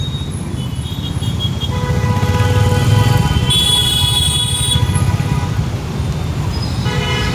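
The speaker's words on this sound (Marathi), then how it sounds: "सगळ्या गाड्या एकतर फिरून येत आहेत" Dense road traffic rumbles steadily past a manhole under repair as vehicles divert around it, with engines droning and several horns tooting in sustained and short blasts.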